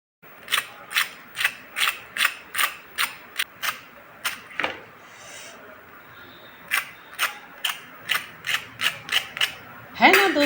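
Sharp, crisp crunches of fried masala vada repeat in a steady rhythm, close and loud, with a short pause midway before the crunching resumes.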